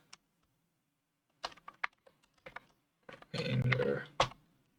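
Keys clatter on a computer keyboard in short irregular bursts while typing code, close and fairly quiet, followed by a louder, denser burst of rustling keystrokes near the end.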